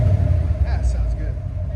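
A 1979-1980 Chevy Corvette V8 idles close by, a steady low rumble that holds evenly throughout, with no other sounds standing out.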